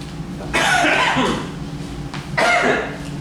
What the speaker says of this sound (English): I'm coughing all morning long